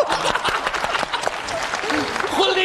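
Applause from a crowd at a staged comedy sketch: dense, lively clapping close up and fairly loud, running the whole time, with voices mixed in beneath it.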